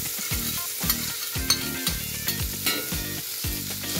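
Frying in a pan during preparation of a mixed vegetable French toast, a steady sizzle broken by a rhythmic run of repeated scraping stirs, close up with no speech.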